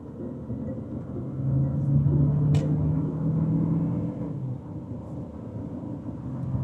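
Chery Tiggo 7 Pro SUV with a turbocharged engine and dual-clutch transmission accelerating, heard from inside the cabin as a steady low engine and road rumble that swells slightly, with a brief higher-pitched tick partway through.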